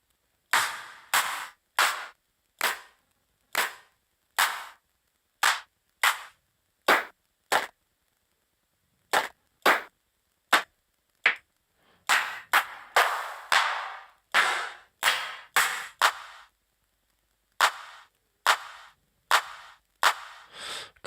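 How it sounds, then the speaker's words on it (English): Punchy clap drum sample from the Vengeance library auditioned in Ableton Live, struck again and again as sharp isolated hits with short gaps, some tails slightly longer, loud and dry with no one talking. "I reckon Vengeance will have a good clap"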